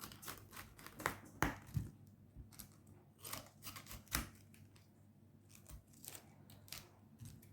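A knife cuts a head of cauliflower into smaller florets, giving a series of close, crisp crunches and snaps at an uneven pace with quiet pauses between cuts.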